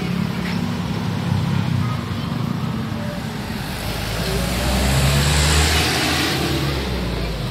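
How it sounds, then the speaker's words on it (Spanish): Heavy road traffic on a busy street, with cars, trucks and buses passing continuously, a steady loud roar of engines and tires that swells and fades as vehicles go by. "Está bien pesado el tráfico"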